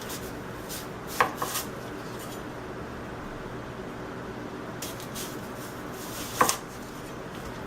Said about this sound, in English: So we're going to chop this up now.